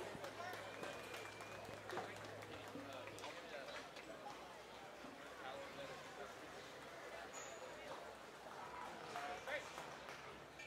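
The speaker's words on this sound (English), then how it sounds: "Let's give those kids a round of applause" Applause for the kids at a junior gilt show, a fairly faint, dense patter of clapping from a crowd in a show ring, steady throughout amid background noise.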